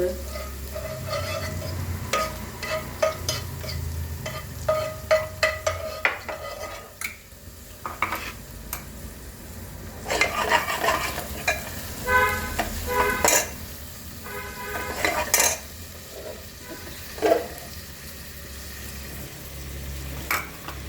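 Onions and garlic roasting in a pan, with a spatula scraping and clattering against the metal in irregular bursts over a low, continuous sizzle, close by and moderately loud throughout.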